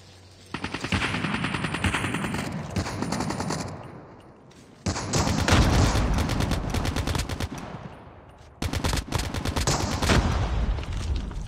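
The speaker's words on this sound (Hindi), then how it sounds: "कहाँ गोली चली, कहाँ गोली चली" Automatic gunfire in the video game Call of Duty comes in three long, loud, rapid bursts close by, separated by brief pauses.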